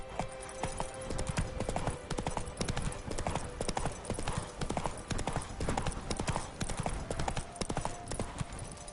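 Roach, Geralt's horse in The Witcher 3, trots with steady, loud clip-clop hoofbeats repeating throughout, close and continuous with no talk over them.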